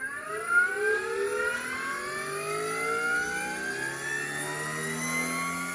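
An RC Sky Crane model helicopter's engine runs at idle, a loud whining hum with rising and shifting tones that holds steady throughout, close by and heard on its own.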